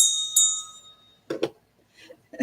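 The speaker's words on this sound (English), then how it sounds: "I'm going to ring the bell after that one." A small bell is struck once and rings bright and high with a brief decaying tone. After it, a voice speaks briefly.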